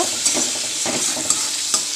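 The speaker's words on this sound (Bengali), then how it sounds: "তো ভাজা হোক একটুখানি মাছটা" Prawns fry with turmeric, salt and onion in a pan for a jute-leaf dish, a loud close sizzle broken by rhythmic spatula scrapes and stirring clicks.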